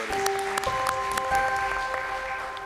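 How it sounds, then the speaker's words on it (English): Applause from a conference audience for a climate and soil panel at a forum, a steady wash of clapping held at even loudness under faint tonal hum, with no voices standing out. "So I would like you to please applaud our panel"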